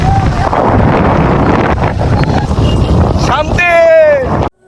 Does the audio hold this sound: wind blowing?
yes